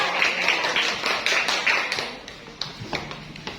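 Classroom applause for a student group: a short burst of fairly loud, dense hand claps from a small crowd that thins into a few scattered, sparser claps toward the end.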